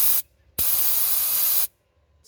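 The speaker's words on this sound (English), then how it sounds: "Got my gun set up. I got the 360-degree spray wand on this. I'll just spray it here a little bit" A Fluid Film rustproofing spray gun fitted with a 360-degree spray wand lets out a short hiss, stops briefly, then gives a loud, steady, close blast lasting about a second before cutting off.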